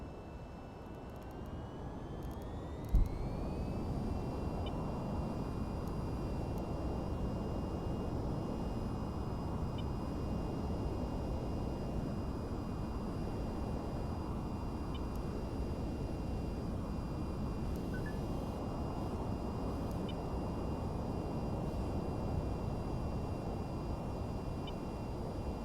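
An aircraft in the VTOL VR game spools up for takeoff, a steady engine drone with a rising whine, after a brief click near the start.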